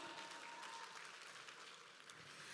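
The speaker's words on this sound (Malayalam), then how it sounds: "ആദ്യം തന്നെ നല്ലൊരു കൈയടിയോടെ ആരംഭിക്കാം" An Eid Hungama show audience claps continuously, a faint, even wash of applause that runs the whole time without any voice over it.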